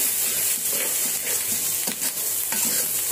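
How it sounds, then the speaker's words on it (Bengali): Spice paste sizzles loudly in hot oil with onions, a close, constant frying hiss broken by brief stirring scrapes. "মশলাটা দিয়ে দিচ্ছি তেলের ভিতরে, তেল পেঁয়াজের মধ্যে আর কি"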